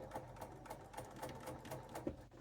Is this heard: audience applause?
no